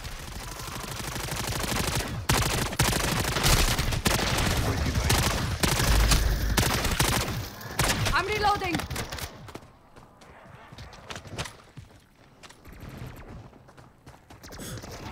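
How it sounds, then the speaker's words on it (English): Heavy gunfire from many weapons in the Call of Duty DMZ video game, dense bursts and rapid shots for about nine seconds before thinning out, with a player's voice talking over it. "That's a lot of guns."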